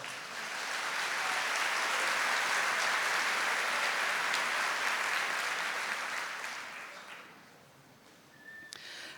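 A church congregation at a Catholic service applauds steadily: a thick, sustained wash of clapping that holds for several seconds, then dwindles toward the end.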